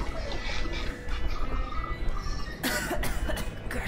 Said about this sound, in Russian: Кашель этот дурацкий.